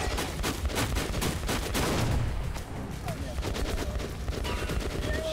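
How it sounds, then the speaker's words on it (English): Rapid gunfire rattles toward the player in Metro Last Light, dense bursts of shots crackling close and loud, easing slightly partway through as the volley continues. "where am I being shot at?"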